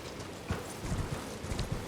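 Horse hooves clip-clopping in the video game Elden Ring while riding, a quick irregular run of soft thuds over a steady background hiss, faint and without talk.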